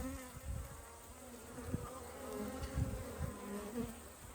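Honey bees buzz around an open hive during an inspection, a quiet continuous drone with occasional soft knocks and handling sounds nearby.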